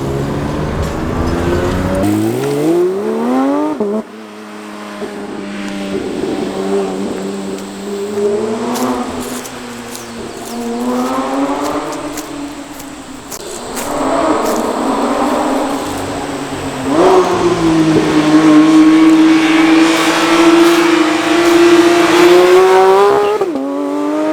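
A Porsche GT3 RS engine roars through repeated rising revs, dropping pitch between pulls as it downshifts, loud and close with bursts of acceleration.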